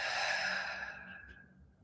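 A deep, slow breathwork exhale released through the body, a soft airy sigh that starts full and gradually fades away into quiet over about two seconds.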